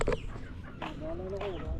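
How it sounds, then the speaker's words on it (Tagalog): Farm chickens cluck softly nearby, with low murmured clucks under people talking outdoors. "Mga manok natin."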